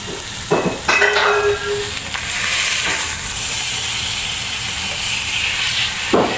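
Chuck eye steak searing in a hot pan, a loud continuous sizzle and hiss with a few brief clanks and shifts at the start and near the end.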